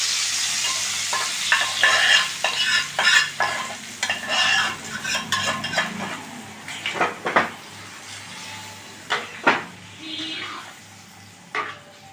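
Oil and bori poured over a Bengali vegetable curry of potato, brinjal, pumpkin, cucumber and ridge gourd, then stirred, giving a soft sizzle with scraping spoon strokes against the pan, close and fairly loud, no talking.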